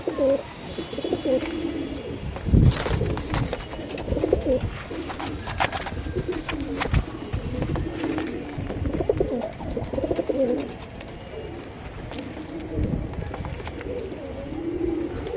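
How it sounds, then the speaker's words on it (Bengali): A pair of breeding racing pigeons coo repeatedly up close, with wing flutters and scuffling amid faint background noise. "কত ছটফট করতেছে কবুতর দুইটা"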